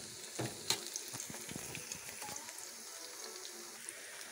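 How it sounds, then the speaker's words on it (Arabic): Sliced onions coated in flour frying in oil for Egyptian koshari, a steady close sizzle with a few sharper spits and crackles near the start, no speech. "ودلوقتي معاكم بنقلي البصل"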